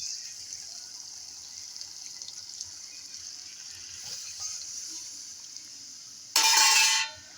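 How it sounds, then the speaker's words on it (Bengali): Water pours into a chicken and potato curry in a pot, a brief loud gushing splash near the end after a low steady background hiss. "এবার আমি জল দিয়ে দেবো।"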